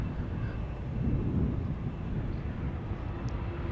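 Delta Airlines plane departing Amsterdam Schiphol Airport, a steady broad jet roar with low rumble and some wind buffeting, moderately loud and constant throughout.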